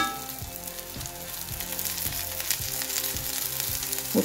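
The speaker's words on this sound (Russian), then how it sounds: "Сейчас эта сторона поджарится и переворачиваем на другую." A thin layer of batter for a snack cake fries in a pan over medium heat, giving a steady close sizzle with faint crackles and no voices.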